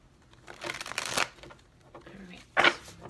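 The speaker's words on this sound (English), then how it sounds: "I feel like we got one more shuffle." Cards are shuffled in two brisk riffling bursts, close and crisp, separated by a quieter pause with faint handling noise.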